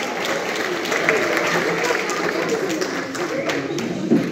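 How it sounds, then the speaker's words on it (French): An audience applauds at a French certificate-awarding ceremony, a steady wash of clapping from many hands filling the room, with talk mixed in underneath and a slightly louder burst near the end. "on peut les applaudir quand même."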